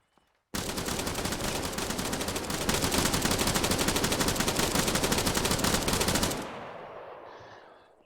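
An MG42 machine gun fires one sustained burst of extremely rapid, continuous shots for about six seconds, loud and close, before the noise cuts off and echoes away.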